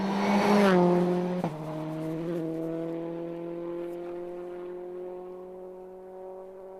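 A rally car on an Irish tarmac stage at the Galway International Rally, understeering through a corner. A loud, close engine note with tyre scrub sweeps past, then holds a steady droning pitch as it pulls away and fades.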